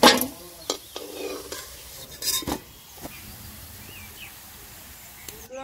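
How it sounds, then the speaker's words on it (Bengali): Soybean muitha dumplings being lifted out of hot frying oil, with metal utensil scrapes and clinks against the pan over a faint, steady sizzle. "মুইঠা ভাজা হয়ে গেছে, তুলে নিচ্ছি।"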